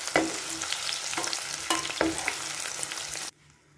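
Paneer frying and being stirred in hot oil, a steady close sizzle with rhythmic scrapes of a utensil in the pan, cutting off abruptly near the end.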